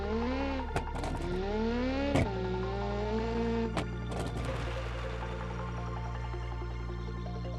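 A rally car in an engine-and-tyre test drive runs a braking test, its engine whining up and down in pitch, cut by a few sharp clunks and knocks, then settling into a steadier drone.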